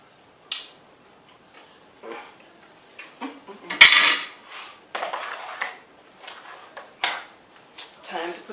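Homemade baked beans are tipped into a cooking pan in a home kitchen. Scattered metallic clinks and scrapes from the pan and utensils are followed by one loud clatter, with intermittent soft clanks after it.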